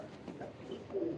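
A female Teddy King pigeon coos softly in a low, throaty murmur, with a brief rolling coo rising near the end over faint room noise.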